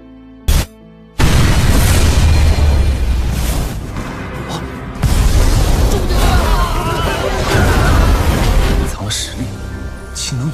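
A loud, sudden blast from an anime fight technique erupts after a brief pause, followed by sustained roaring debris noise of collapsing buildings and further booming surges.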